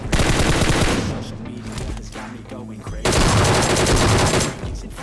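Video game gunfire, loud rapid bursts of automatic shots close by, a dense volley, a brief lull, then another heavy burst.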